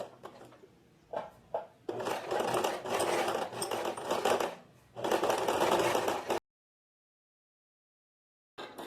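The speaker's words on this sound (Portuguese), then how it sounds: "venho aqui pelo lado direito da peça e vou fazer o pesponto" Sewing machine topstitching along the right side of a short-sleeve shirt yoke: a few short starts, then two long steady whirring stitching runs separated by a brief pause, close and fairly loud, before falling silent.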